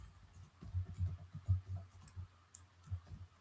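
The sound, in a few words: typing printf code on a computer keyboard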